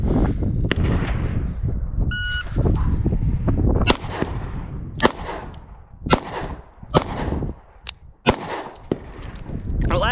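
Smith & Wesson 442 snub-nose revolver fired from a pocket, five loud sharp shots spaced irregularly over several seconds with a timer beep near the start and outdoor range echoes, close by.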